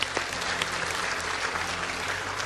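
A dense, steady round of clapping from a large hall audience at a religious lecture event in Malaysia, filling the whole stretch evenly with no speech over it.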